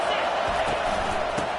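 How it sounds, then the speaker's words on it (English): A college football crowd, TCU playing in the stadium, keeps up a steady loud roar of cheering with the noise building, heard from a distance as a dense wash of many voices. "this crowd is turning it up a notch."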